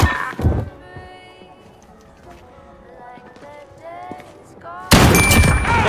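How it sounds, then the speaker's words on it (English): Shotgun blasts in Call of Duty Modern Warfare multiplayer: a loud burst near the start, then quieter game noise and faint voices, and another loud, sustained blast near the end. "For this map, I only want shotgun clips."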